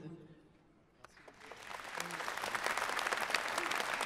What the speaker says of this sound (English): Messieurs, dames, applaudissez-les s'il vous plaît.